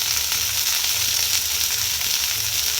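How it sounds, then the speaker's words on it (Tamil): Eggplant pieces sizzle in hot oil in a pan as they are tossed, a loud, steady frying hiss that runs without a break. "நல்லா இந்த மாதிரி எண்ணெயில் நல்லா இப்படி பிரட்டி விட்டுட்டோன்னா"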